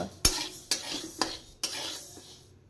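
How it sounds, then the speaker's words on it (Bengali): Dal (lentils) is dry-roasted in a pan and stirred, making four distinct scraping strokes of a utensil against metal over a faint, soft sizzle. "ডালটা একটু লাল করে ভেজে নেব, যাতে পুড়ে না যায়"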